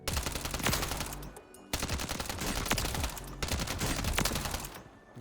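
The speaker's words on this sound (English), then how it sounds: "This is an SMG." Rapid automatic SMG fire in Warzone from a Striker build, loud dense bursts rattling almost continuously, with a brief gap near the middle and no voices over it.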